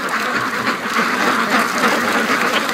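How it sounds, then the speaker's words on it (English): Muscovy ducks on a free-range duck farm quack loudly and continuously at close range, the calls overlapping into a dense, busy chorus. "And the Muscovy that flew down are waiting for them."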